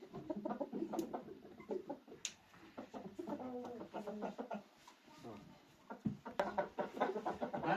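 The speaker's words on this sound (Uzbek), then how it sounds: "Mana xo'rozda legendarnisi." Fighting roosters offered for sale, one a prized 4.5 kg bird, crow and cluck in short bursts while someone talks over them throughout, with scattered bird calls in the background.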